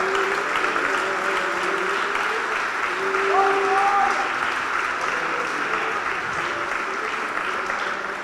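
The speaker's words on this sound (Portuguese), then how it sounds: "Aplauda o Senhor, irmãos." A church congregation applauds steadily throughout, a dense even wash of clapping with a brief sung or spoken tone rising over it midway.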